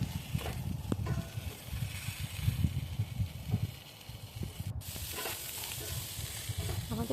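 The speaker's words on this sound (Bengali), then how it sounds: "আমাদেরকে ভালো করে মিক্স করতে হবে এবং ভালো করে, খুব কড়াভাবে নয় কিন্তু লাইটভাবেই ভাজতে হবে সবজিগুলো" Peas and carrots stirred and lightly fried in a pan for vegetarian dalia: close, steady scraping stir strokes over a soft, continuous sizzle, with no voices.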